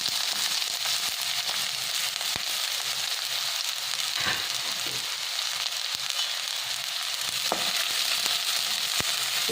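Sliced onions sauté in about two and a half tablespoons of coconut oil for a Kerala duck curry, giving a loud, constant sizzle with scattered crackles and a few stirring clicks.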